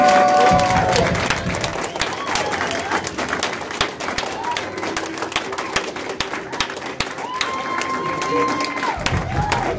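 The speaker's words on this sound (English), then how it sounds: "Let's give a huge round of applause." Meeting audience at a 2018 kickoff event applauding, a dense burst of clapping that starts loud and gradually thins, with scattered claps and voices talking over it as it fades.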